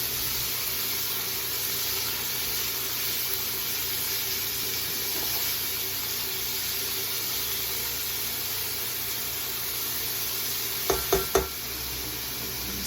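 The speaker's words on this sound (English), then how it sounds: "So we're going to start to sweat our veggies" Onions, peppers and celery sweat gently in a pan, a soft steady hiss running throughout, with a few brief clinks near the end and no voices.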